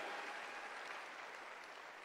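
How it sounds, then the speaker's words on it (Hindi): An audience claps for a group of leaders at an event, a steady sustained applause that stays fairly faint and even throughout. "एक बार जबरदस्त तालियां इन सब लीडर्स के लिए"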